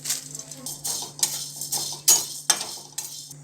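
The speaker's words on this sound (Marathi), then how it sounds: "अर्ध्या छटाक लवंग आपण आता भाजून घेऊया मंदाचेवर" Cloves dry-roasting in a pan on low heat for a black spice masala: a series of light metallic clinks and scrapes from stirring, several sharp knocks against the pan, moderately close with a steady low hum beneath.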